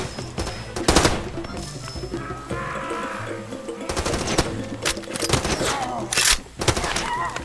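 Gunfire in the Far Cry 2 video game: several loud bursts of automatic weapon fire and single shots spread across the stretch, with game ambience between them and a voice briefly heard.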